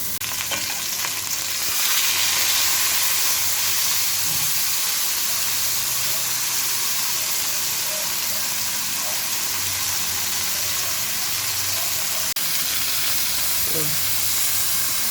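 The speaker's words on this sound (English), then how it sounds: "you just want to get a nice sear on the beef first" Beef searing in a pot for pot roast, a continuous loud sizzle and hiss with occasional stirring scrapes, steady throughout without talk.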